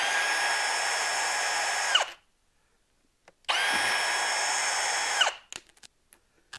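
Power drill running on a snowmobile brake reservoir cover, backing out two 8mm bolts: two steady whirring bursts of about two seconds each, separated by a pause, each ending with a winding-down whine, followed by a few small clicks.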